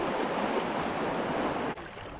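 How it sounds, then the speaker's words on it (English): Fast-moving floodwater rushing through an urban creek, a dense, steady roar close by that drops off abruptly near the end. "Fast moving water."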